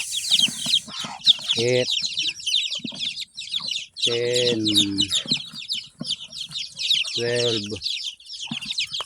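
Pet hens and chicks cluck and peep while being moved into their coop, with repeated bursts of hen clucking over constant high chick chirping, and a voice counting aloud in Filipino nearby.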